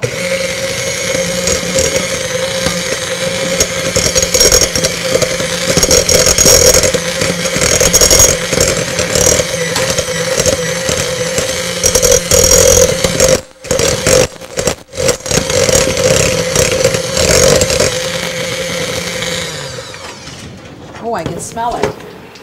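An electric mixer beats a cream cheese filling with orange zest in a home kitchen, a steady loud whirring drone that runs for about twenty seconds, briefly cutting out twice, then stops.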